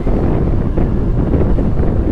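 Wind buffets the microphone while a motorbike is ridden outdoors, producing a steady, loud, broadband rumble that holds without pause across the whole stretch, with no voices.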